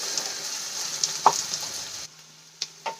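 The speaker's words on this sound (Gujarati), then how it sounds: "બે મિનિટ માટે આપણે એને સાંતળી લઈશું" Vegetables sautéing in a pan for a Maggi-based snack give a steady sizzle, with a few light clinks of a utensil against the pan. Near the end the sizzle drops away, leaving a couple of sharp taps.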